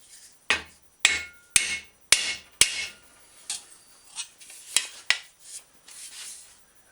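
A hammer pounds on a Schwinn bicycle fender in a series of sharp metallic blows, about a dozen strikes with uneven spacing, some ringing briefly, near and loud with no voices.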